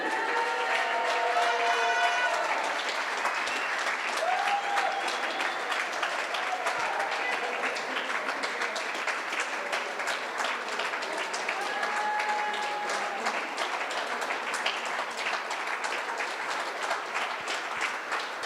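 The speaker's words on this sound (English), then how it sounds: "Keep the applause going for Paige Pauling." Sustained applause from a large arena crowd at a women's darts tournament, steady and dense throughout with scattered cheers, the clapping continuing at an even level for the whole stretch.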